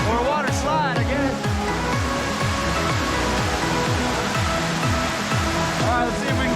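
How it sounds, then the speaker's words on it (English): The roaring torrent of Clarendon Falls in New Brunswick, a stream swollen into a powerful waterfall, rushes as a dense continuous wash of water up close, with someone talking over it throughout. "just this nice little stream becomes that monster of a torrent right there"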